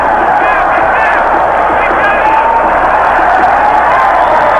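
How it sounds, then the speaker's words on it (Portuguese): Corinthians supporters fill a Brazilian football stadium during a 1993 Campeonato Brasileiro match against Cruzeiro, a loud, continuous roar of massed cheering and chanting with no break. "E a torcida do Corinthians presente sempre, a fiel torcida corintiana,"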